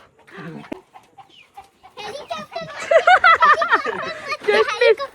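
Chickens cluck on a village farm, their calls mixed in among people talking nearby throughout.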